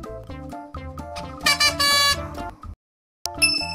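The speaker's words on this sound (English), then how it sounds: "B is for bus." A bus horn honks a few times in short and longer blasts, loud and close, followed by a brief silence and another toot.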